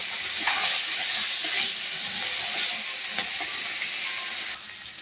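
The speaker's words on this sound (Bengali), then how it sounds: "আমি মাছগুলো দিয়ে দিচ্ছি সব।" Small puti fish sizzling in hot oil in a wok, a steady loud hiss with crackling pops throughout, alone with no voices.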